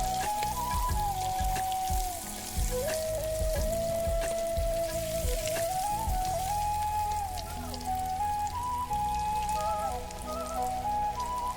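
Vegetable chops fry in hot oil with a continuous crackling hiss like light rain, close and steady, while a soft melodic tune plays quietly underneath the whole time.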